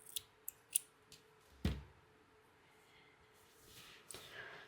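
Scissors snipping crochet yarn close by, with a single sharp cut standing out among faint clicks and handling noises in an otherwise quiet room.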